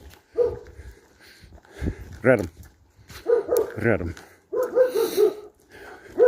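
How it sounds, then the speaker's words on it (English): A German Shepherd barks several times in short bursts, fairly close and loud, mixed with a person talking over and between the barks. "I've got another dog down here that barks, and it's a German Shepherd"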